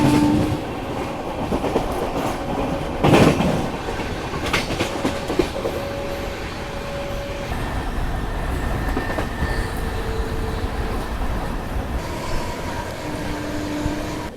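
Rajdhani Express passenger train running on rails in India, a steady loud rumble with rhythmic clickety-clack of wheels and faint squeals, heard continuously from inside the coach.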